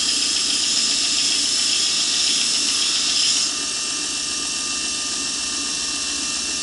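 Belt grinder with a diamond belt knocking down the edges of a knife blade, a steady loud grinding hiss that brightens for a few seconds, then drops to a duller, constant motor whir with no talking.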